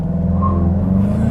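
A 2022 VW Golf GTI with a 2-liter four-cylinder, in sport mode, launches hard, giving a loud, close, steady engine drone that holds for a brief moment.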